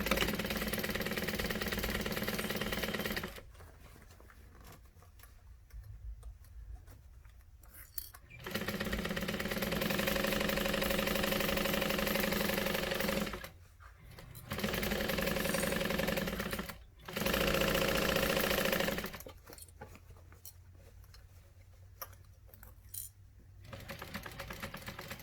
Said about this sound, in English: And sew this down. I'm going to sew it with a 1/2 inch.